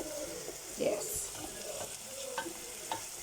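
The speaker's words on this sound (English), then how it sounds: "we just brown it up a little. So I'm using a gas stove, so it's pretty hot" Meat browning in a hot pan on a gas stove for homemade lasagna: a steady soft sizzle with occasional scraping stirs, fairly quiet and close.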